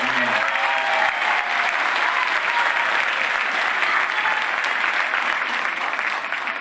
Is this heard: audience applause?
yes